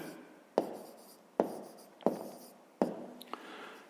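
Pen or pencil writing by hand while working a fifth-grade math exercise, four distinct bursts of scratching strokes close up, each fading out in a quiet room.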